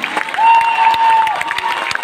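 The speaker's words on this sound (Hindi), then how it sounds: "तालियां इतना बजाओ कि आज मैं पूरे पसीने से नहा गया" Audience at a public program meeting in Hazaribagh claps, a dense burst of applause with a sustained whistle-like tone running through it and crowd noise around it.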